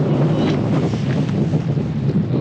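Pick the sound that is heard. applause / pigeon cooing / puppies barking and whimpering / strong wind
strong wind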